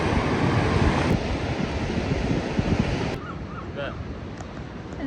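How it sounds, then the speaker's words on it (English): Sea waves washing at the water's edge at Prussia Cove, Cornwall, a loud, rushing roar mixed with wind on the microphone, easing into a softer wash after about three seconds. "when you're stood right at the edge of the sea like this"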